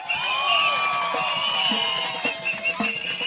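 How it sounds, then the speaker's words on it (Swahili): A crowd cheers and shouts loudly, with whoops rising over a steady roar that holds for a few seconds before easing slightly. "Mujipigie makofi."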